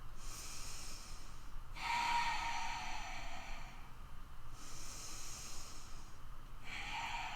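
Slow, deep breaths are held in a yoga chair pose, about four long airy inhales and exhales taken close up in a quiet room, each lasting a second or more and separated by short pauses.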